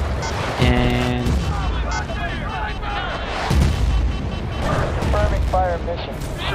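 Mortar strike explosions in Battlefield Bad Company 2, deep rumbling booms under a busy battlefield with scattered gunfire and someone talking over them.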